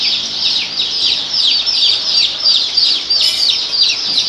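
A flock of about 300 joper chickens of the same age in a farm pen, a dense continuous chorus of high peeping and chirping calls, close and loud, with no one speaking.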